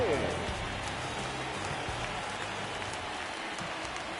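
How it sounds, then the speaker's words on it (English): Heavy rain falling in the MLB The Show 19 baseball video game, a loud, steady, dense hiss throughout, with faint game sounds underneath. "Yeah, the rain starting to intensify here. It's coming down a little heavier now."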